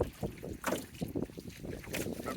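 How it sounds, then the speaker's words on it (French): Canoe paddle strokes on a windy lake, irregular wet splashes and drips close to the microphone, with gusts of wind buffeting over them. "je vais faire une petite virée en canot avant que le vent se lève encore plus"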